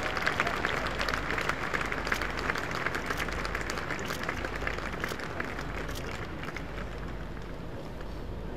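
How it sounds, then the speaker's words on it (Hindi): Sustained applause from a large audience welcoming guests onto the stage at a school's 125th Founder's Day ceremony, a dense steady roar of clapping that holds for the whole span. "तालियों की गड़गड़ाहट से आप सभी स्वागत करें इन महानुभावों का।"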